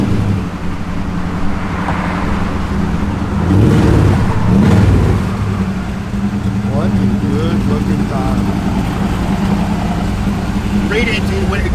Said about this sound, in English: Good sounding dual exhaust.